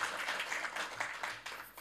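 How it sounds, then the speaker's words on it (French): An audience at the APELIP 2023 conference inauguration applauds in a dense, steady wash of hand claps, sustained and moderately loud for the full two seconds. "je vous demande de vous applaudir"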